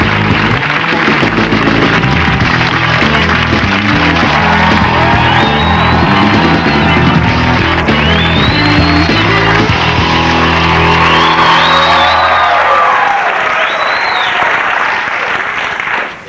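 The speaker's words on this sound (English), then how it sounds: "I don't think they should applaud that loud after the credits" A studio audience at a comedy talk show applauds and cheers loudly and continuously after the credits, a thick roar of clapping mixed with whoops and yells and music running beneath it.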